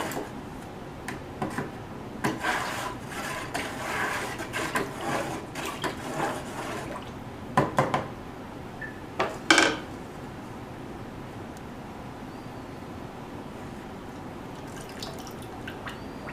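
Glaze dripping from a pot just dipped into a glaze bucket, a run of small drips and taps that thins out to near quiet, with a few sharper knocks near the middle.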